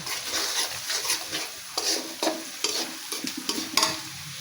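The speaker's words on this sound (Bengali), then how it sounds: "ভেন্ডিটা দিয়ে এতক্ষণ নাড়াচাড়া করবো 20 মিনিটের মতো" Okra (bhindi) fries in a pan after browned ingredients, with a close sizzle broken by repeated scraping stirs in an uneven rhythm.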